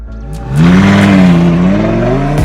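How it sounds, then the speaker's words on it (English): Lamborghini sports car revving and pulling away on a drive, a loud, close engine roar that climbs and holds a rising pitch for a couple of seconds before easing off, with no voices. "I still own a Lamborghini, and I'm about to go for a drive with some friends."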